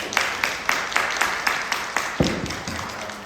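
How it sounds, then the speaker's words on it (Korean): A church congregation claps in welcome during a Sunday service at a Korean church in Durham, England, giving a string of evenly spaced, fairly close claps with a steady rhythm. "박수로 환영해주십니다."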